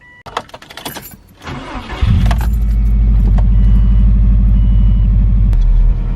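A Subaru STI engine cranks and fires up after a few seconds of jingling keys and handling, then settles into a loud, steady idle rumble close by with no talking.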